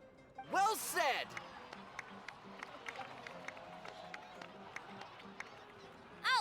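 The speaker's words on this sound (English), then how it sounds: "please give another round of applause for them" A crowd in Genshin Impact breaks into applause and cheering, a faint scattered patter of clapping that swells briefly at the start and again at the end, with talk heard over it.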